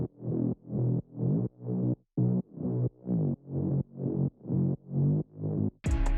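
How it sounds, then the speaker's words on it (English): A Reese bass synth layer in a progressive house track plays about a dozen evenly spaced, buzzy mid-bass notes in a steady pulsing rhythm, ending with a brief bright noisy burst. "I added a Reese bass so that it acts like a mediator with the sub bass for the mid bass"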